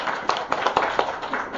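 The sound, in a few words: children applauding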